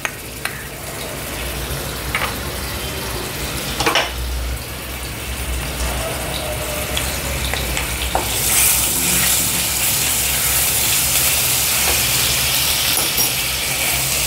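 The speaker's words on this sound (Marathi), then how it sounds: "सगळ्यात पहिले आपण आलं लसूण पेस्ट घालूया." Ginger garlic paste sizzles and spits in hot oil in a kadhai on a gas stove for a soya bhaji masala, a steady close crackling frying hiss with occasional stirring scrapes, growing brighter and louder in the second half, no talking.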